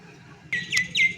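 Birds call outdoors with a few short, bright chirps in quick succession, close and clear above a faint background hum.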